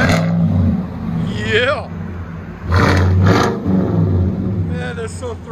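Deep rumbling revs from a 2016 Chevy Silverado High Country with a 6.2L V8 and true dual Black Widow race exhaust, loud and close with throaty swells, while people talk nearby.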